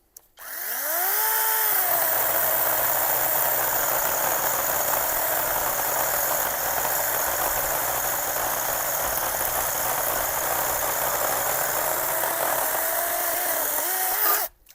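A Procraft PKA 46 mini chainsaw revs up and cuts steadily through thick wood, a loud, continuous, high-pitched buzzing whine that holds for over ten seconds before spinning down at the end.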